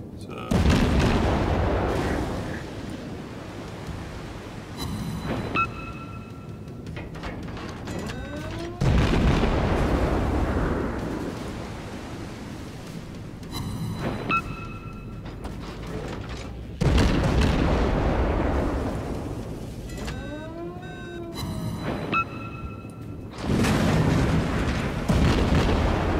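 The naval guns of USS Erie in World of Warships fire four heavy, booming salvos spaced several seconds apart. Each boom rolls off into a rumble, with whistling and clinking effects in between.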